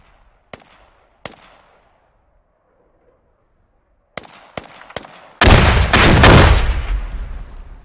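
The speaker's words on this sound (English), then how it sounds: "A lot of explosions going off here." Explosions and artillery fire in a battlefield video game: a few sharp isolated bangs early on, then a quick cluster of blasts leading into a loud, sustained roaring barrage of overlapping detonations close by.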